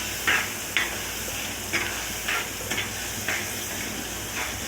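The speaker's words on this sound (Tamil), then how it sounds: "சட்டிக்குள்ளேயே தான் கிண்டணும்." A spoon scrapes through bottle gourd tamarind curry in a pot, leaving about seven short scraping strokes at a fairly even pace over a steady low simmering hiss. No voices are heard.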